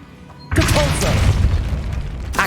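Depulso spell cast in the Hogwarts Legacy video game: a sudden loud magical blast with a rumbling, crackling tail that lasts about two seconds, followed by another burst at the end.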